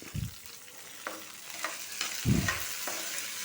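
Raisins frying in a pan with stirring, giving a steady low sizzle broken by a few soft scraping strokes, one louder stir near the end.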